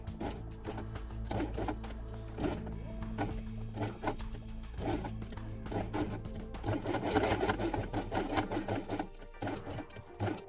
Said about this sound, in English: sew along the edge with blue thread